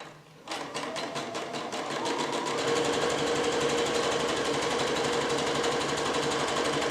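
Domestic sewing machine stitching a tight narrow zigzag along a fabric edge, starting up after a brief pause, then running in a fast steady mechanical rhythm, close and continuous.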